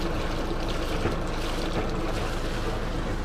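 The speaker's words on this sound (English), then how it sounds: "Here's our water discharge." Cooling water from a sailboat's diesel engine gushes out in a steady, rushing splash, loud and continuous, heard close by without any talking.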